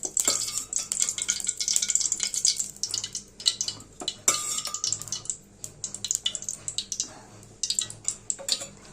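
Oil is poured into a dry, heated pan for a Tamil prawn and drumstick curry, giving a crackling, spattering hiss with scattered metallic clinks and scraping, close and moderately loud.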